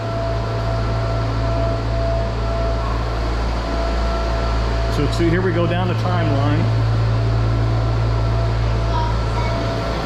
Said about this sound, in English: Sorry about the loud noise. That is a hurricane simulator